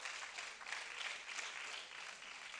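Steady applause from a delegate audience at a national student congress in Ghana, a dense, even patter of many hands clapping throughout without voices over it.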